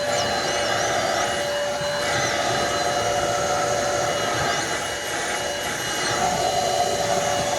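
An APOSEN H20-4 handheld car vacuum cleaner runs steadily in high power mode, a loud, constant motor whine with airflow rush and faint scraping as the nozzle moves over car upholstery.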